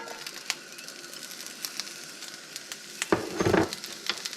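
Onions frying in a pan produce a soft, continuous sizzle with small crackles, then a louder rustle and clatter as they are stirred or added partway through; no one speaks.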